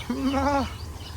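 A single goat on a farm in Sharjah Desert Park bleats once, a short wavering cry lasting about half a second, fairly close, then quiet background.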